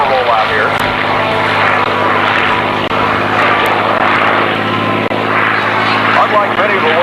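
P-51 Mustang with a liquid-cooled engine rolling slowly through a barrel roll at an airshow, a loud continuous propeller drone with a steady low hum that holds throughout, with an announcer talking over it.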